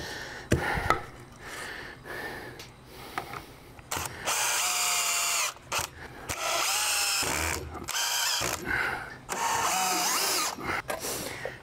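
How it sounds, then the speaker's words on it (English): A power drill pre-drills screw holes in deck boards in repeated whining bursts of a few seconds each, spinning up and down, with handling knocks in the short gaps between. "We're just gonna pre-drill the screws."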